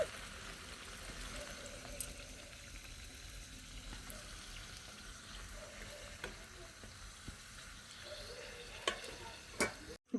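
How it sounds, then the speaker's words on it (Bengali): Luchi flatbreads fry in hot oil in a kadai with a soft, steady sizzle and bubbling, plus occasional light clicks of a utensil, fairly quiet and close with no talk. "দেখুন লুচিগুলো ভাজছি"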